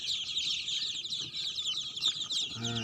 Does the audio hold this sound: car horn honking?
no